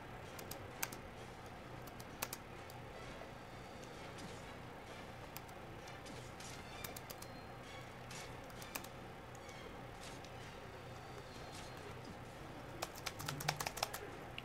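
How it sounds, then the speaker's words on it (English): Computer keyboard keys clatter as a game of Apple Knight is played, rapid irregular clicks and taps close to the microphone, with denser bursts toward the end. "I'm playing on the keyboard, so I like to play this game on the keyboard."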